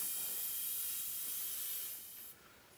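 An aerosol can of 6-in-1 lubricant sprays onto an ATV tire bead, a quiet steady hiss that tapers and cuts off near the end.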